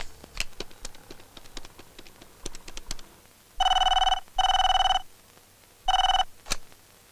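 A telephone rings in a Telugu film scene, a call being placed to Hyderabad: three loud bursts of electronic ringing, the first two close together and the third after a pause, following scattered knocks and clicks.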